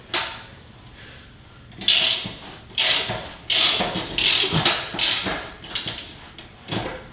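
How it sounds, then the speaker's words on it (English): A ratchet wrench works a steering stabilizer mount bolt, producing close, bursty runs of clicking. Several separate ratcheting strokes come in an uneven rhythm against a quiet background. "Switch my ratchet around."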